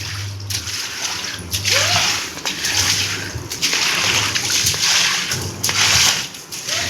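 Floodwater that has entered a house splashes and sloshes across the floor in uneven bursts, close by, with a low steady hum underneath.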